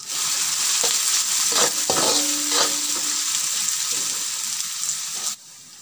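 Garlic, onion and green chili sautéing in a pan for Sri Lankan kottu, a steady close sizzle with a few stirring scrapes, cutting off abruptly near the end.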